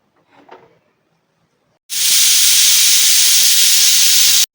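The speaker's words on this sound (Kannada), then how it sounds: "ಈಗ ನನಗೆ ಒಂದು ವಿಷಿಲ್ ಬಂದಿದೆ" A pressure cooker holding chicken sambar vents with a loud, steady steam whistle that bursts in suddenly after a quiet stretch with a faint brief sound, then hisses continuously and close up.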